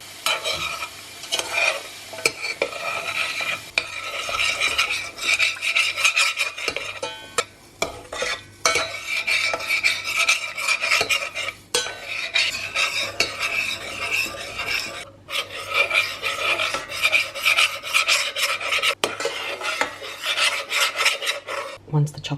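Chocolate ganache melting in a pan over medium heat on a stovetop, stirred continuously with a utensil: steady close scraping and rasping strokes with a faint sizzle, no voices.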